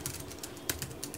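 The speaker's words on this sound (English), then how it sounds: "Alright, let's test this keyboard out." Quick keystrokes on an iWerkz universal foldable Bluetooth keyboard with an Apple-like feel, a close, steady patter of light clicks with a few sharper taps, no voices.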